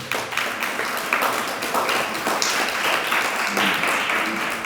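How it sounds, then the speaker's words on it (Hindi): An audience at a spiritual discourse claps together in a steady, dense patter that holds for several seconds with scattered louder hand strikes. "ये आपने अपने ऊपर ताली बजाई है।"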